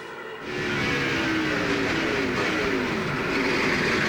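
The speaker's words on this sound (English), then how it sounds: "Ah, he got wheel hop there. And that was too much rear brake. If you heard that, that's what wheel hop is." Onboard sound from a NASCAR Cup car during a 1999–2003 race, a loud continuous engine roar and rumble that rises in intensity, with rough vibration as the rear wheels hop under heavy rear braking.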